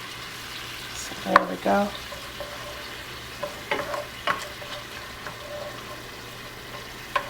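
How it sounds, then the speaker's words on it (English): Onions fry in a pan with a soft, steady sizzle, broken by several sharp scraping stirs and clinks of the utensil, and a voice speaks briefly near the start. "So I'm going to go ahead and dump some of these onions in"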